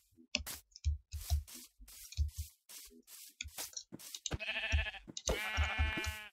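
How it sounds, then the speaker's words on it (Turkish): Sheep in the Minecraft video game bleat in short bursts amid a rapid series of clicking and chewing-like game sound effects, the wavering bleats loud and close near the end. "İlk kez koyun buldum."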